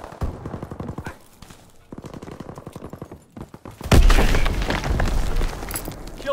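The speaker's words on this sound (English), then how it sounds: "Grenade!" Grenade explosion in Call of Duty: WWII multiplayer, a loud close blast bursting after several seconds of rapid gunfire, followed by a rumbling tail.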